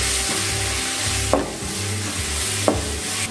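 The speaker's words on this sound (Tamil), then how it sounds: "மிளகாத்தூள், மல்லித்தூள், மஞ்சத்தூள், இது எல்லாத்தையும் ஒன்றா சேர்த்து நல்லா வதக்கிக்கலாம்." Chili, coriander and turmeric powders sizzle steadily in hot oil in a pan while stirred, with a couple of sharp scraping clacks from a utensil against the pan.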